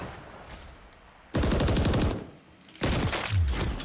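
Longbow sniper fire in Call of Duty MW3 with the Michonne tracer, two loud sharp shots each followed by a long ringing tail, separated by a quieter gap.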